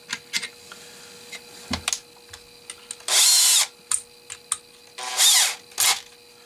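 A power drill spinning a spray paint can shaker whirs in two loud, short bursts, with clicks and handling clatter between them.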